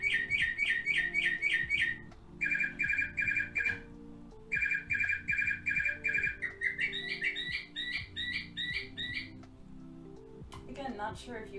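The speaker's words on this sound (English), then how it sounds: "That was the 1 o'clock bird, which is the northern mockingbird, apparently." A northern mockingbird sings outdoors in repeated bursts of rapid, bright, chirping phrases, loud and close, while a person talks quietly underneath.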